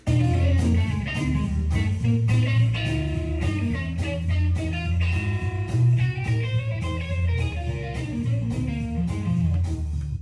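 Fast blues guitar playing at full speed, a busy run of quick picked notes and chords over a steady low backing, loud and continuous throughout.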